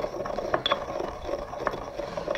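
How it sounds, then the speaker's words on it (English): Celery seeds are ground with a mortar and pestle in quiet, repeated gritty scraping and crunching strokes with light taps, close and soft, with no voices. "So use the pestle to crush and grind the seeds."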